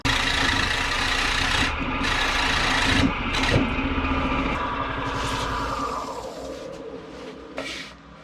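An old, extremely dry black walnut bowl spins on a small wood lathe as the cutting tool scrapes and rasps against it, with a steady motor hum underneath and brief gaps where the cut lifts.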